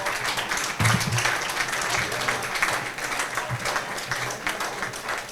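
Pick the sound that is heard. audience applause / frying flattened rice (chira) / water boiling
audience applause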